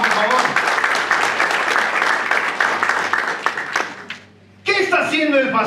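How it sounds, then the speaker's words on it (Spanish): A church congregation gives the pastor's young daughter loud, sustained applause, dense clapping that ends abruptly before a voice resumes speaking. "Dale un fuerte aplauso a mi hija"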